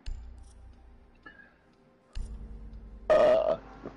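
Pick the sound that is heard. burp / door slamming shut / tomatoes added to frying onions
burp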